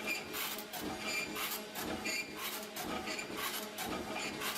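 Super Tyro screw flight forming machine running steel: a steady rasping, grinding mechanical noise with a regular pulsing rhythm, moderately loud, with no voices.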